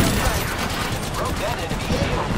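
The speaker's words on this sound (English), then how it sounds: "I am taking fire, Ray." Apex Legends gunfire as dense, rapid automatic shots and overlapping bursts from a close firefight, loud and continuous, with a voice talking over it.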